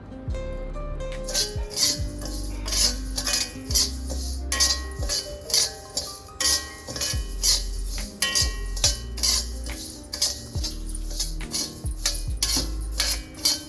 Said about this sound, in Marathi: आता हे मी सारं भाजून घेते आहे.